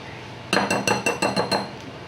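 A spoon knocks against a bowl while cookie dough is mixed, giving seven quick, evenly spaced clinks in about a second and a half, close and clear, with no voice over them.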